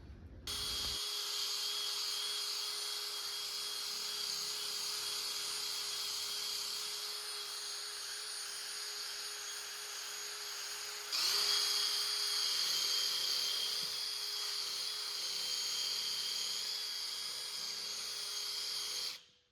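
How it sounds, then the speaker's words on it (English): A steady, high-pitched whir of a sanding wheel cleaning out a rusty hole in a trailer's metal drawbar, running continuously and growing slightly harsher partway through, with no talking. "So I'll go through it first with a sanding wheel and give it a good clean up."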